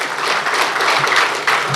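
A crowd applauds at the opening ceremony of a lovebird society in Karachi, a short burst of dense, loud, steady clapping with no voice over it.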